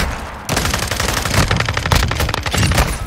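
Rapid automatic gunfire bursts in a Call of Duty match, loud and close, firing steadily for nearly three seconds after a brief quieter moment.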